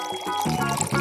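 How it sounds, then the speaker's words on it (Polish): Milk pouring steadily into a pot in a continuous stream for about a second, close by, with a gentle gurgling texture. "Dobrze, nalewamy."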